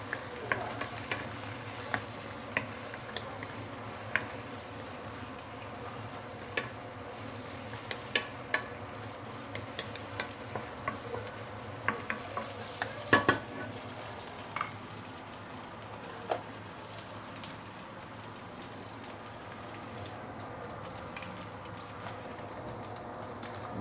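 Egg and mee sua frying together in a pan make a low, steady sizzle with scattered scraping clicks of stirring spread through it, quiet and close, with no voices.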